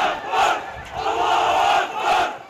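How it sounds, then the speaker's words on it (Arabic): Crowd chanting in unison during a funeral procession in a town, loud rhythmic collective shouts rising and falling in waves with no single voice standing out. "وسط هتافات منددة بجرائم الاحتلال وجيشه، انطلق موكب التشييع"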